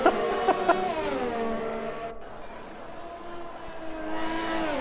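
A Formula 1 car, a Ferrari, in the racing game F1 2020 whines past with a high-pitched engine scream that drops in pitch, then another engine climbs back up as it approaches, loud and close.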